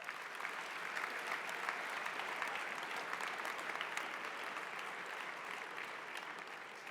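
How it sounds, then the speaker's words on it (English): An audience at a school assembly gives a steady round of applause, dense clapping from many hands that holds at an even level throughout with no voices. "Let's give him a round of applause."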